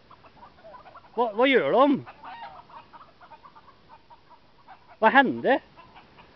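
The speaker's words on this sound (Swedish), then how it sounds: "Är det fåglar här i Borrud? Eller tuppar?" Roosters let out two loud, strained crowing calls separated by softer clucking and scattered bird noises, with a person asking brief questions in Swedish between them.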